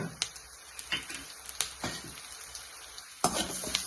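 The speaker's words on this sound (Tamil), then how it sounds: "அதே எண்ணெயில் எடுத்து வச்சிருந்த மல்லி போட்டுக்கோங்க" Coriander seeds frying in oil, a faint crackling sizzle punctuated by soft scraping stirs and taps against the pan.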